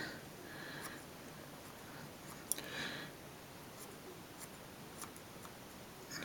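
Small scissors trimming fly-tying material for a size 6 gliss and glint fry fly, quiet sparse snips and clicks against a faint steady background hiss.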